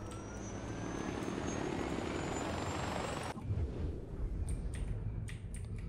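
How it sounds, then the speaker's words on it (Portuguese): A helicopter in the video game Far Cry 4 flies nearby with a loud, steady rotor and engine roar that abruptly drops in level partway through, leaving a lower rumble with scattered clicks. "Tem um helicóptero"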